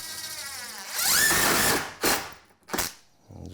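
A power drill drives screws through plywood on a workbench, giving a couple of short whirring bursts that rise in pitch and stop, close and clear, separated by brief pauses.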